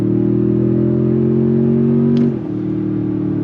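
A 2025 Toyota Tundra TRD Pro i-FORCE MAX pickup with a 10-speed automatic accelerates from inside the cab, its steady engine drone holding loud and even, then briefly dipping as a gear change arrives before resuming.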